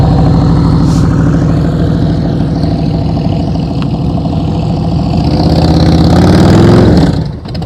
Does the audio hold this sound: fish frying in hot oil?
no